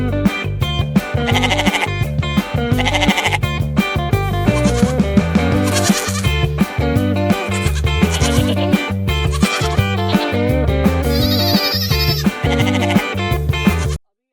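Goats on a countryside goat farm bleat again and again, loud and close, over a steady rhythmic musical beat that runs without pause until it cuts off abruptly at the end.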